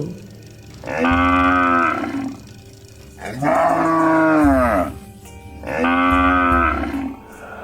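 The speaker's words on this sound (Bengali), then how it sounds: "এত রাতে ভাগাড়ে আবার গরু কোথা থেকে ডাকছে?" A cow moos three times at night as a sound effect in a Bengali story, each call loud, long and close, with short quiet gaps between them and no voices.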